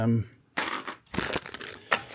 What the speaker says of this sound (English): You can hear the rustling